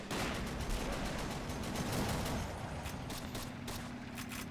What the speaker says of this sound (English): Lots of grenades going off. I love hearing that sound.